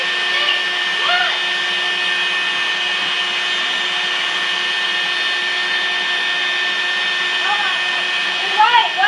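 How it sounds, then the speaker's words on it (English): A vacuum cleaner runs steadily throughout with a constant airy roar and high whine, with a few faint chirpy sounds near the end. "I can't stop the vacuum."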